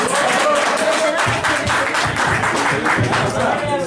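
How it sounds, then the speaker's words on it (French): An audience at the launch ceremony of the 2015 Oscars UK claps in a fairly loud, rhythmic run of hand claps lasting several seconds, with a voice speaking over the clapping. "Applaudissez pour moi-même."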